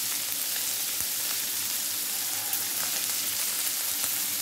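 A pan of mixed vegetables, cabbage, peas, beetroot and carrot, fries on the stove with a continuous close hiss and sizzle. Faint soft knocks of stirring are heard now and then, and no one speaks.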